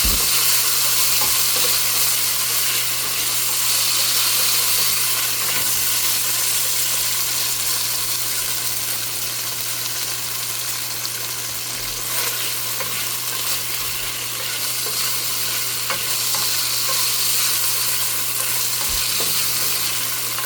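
Pork stir-frying in a hot pan, a loud, steady sizzle with spatula scrapes and stirring running continuously up close, over a low constant hum.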